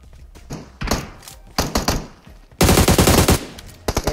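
Gunfire in the mobile battle royale game PUBG Mobile, played on an iPhone 11: loud bursts of automatic fire in several clusters, ending in a sustained rapid volley, with no talking.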